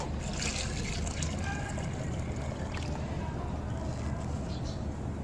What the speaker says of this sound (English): we need to inundate all aggregate in water.